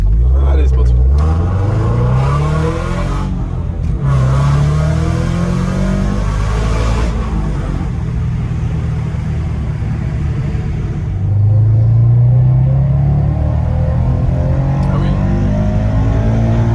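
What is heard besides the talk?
Toyota GT86 sports car engine revving with exhaust valves open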